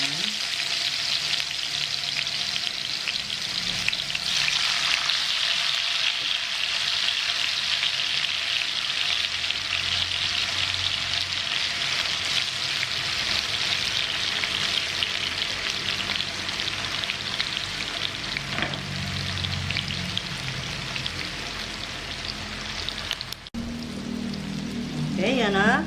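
Tofu fries in an abundant amount of hot oil, giving a steady, dense sizzle and crackle that runs loud and close throughout, with a brief clatter near the end.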